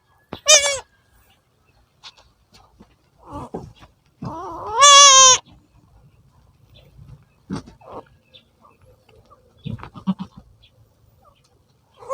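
Goats on a farm with a newborn kid, giving a few loud, close, wavering bleats spread over the stretch, separated by quiet gaps with faint shuffling and soft thuds.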